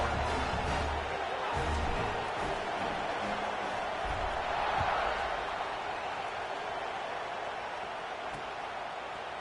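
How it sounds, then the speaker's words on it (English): A stadium crowd in the NCAA Football 26 video game buzzes with a steady, dense roar after a score, a continuous wash of noise heard throughout. "this crowd is buzzing after that last score"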